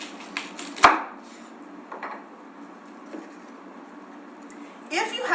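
A knife cutting the core out of a halved vegetable on a board, a few quiet chops and scrapes with a sharp thunk near the start and rustling at the end, with talk in the background.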